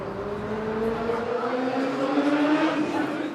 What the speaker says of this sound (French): Cette accélération de moto qui arrive au moment où le personnage se met à accélérer et tourne la rue